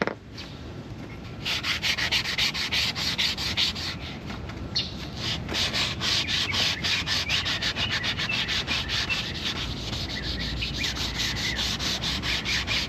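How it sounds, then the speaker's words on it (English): A Scotch-Brite pad scrubs the dirty midsection of a 1988 Evinrude 200hp outboard motor in fast, rhythmic, close rubbing strokes that run steadily for several seconds with no talk. "We have to get a Scotch-Brite for that."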